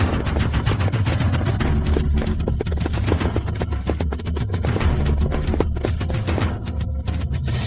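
Rapid gunfire from an assault team's attack, dense bursts of sharp shots cracking in irregular quick succession throughout, loud and close, with no talking.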